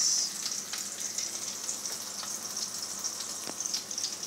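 Onions frying in a hot pan for a simple turmeric fried rice, a steady close crackling sizzle with occasional sharper pops throughout, no voices.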